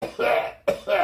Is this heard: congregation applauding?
no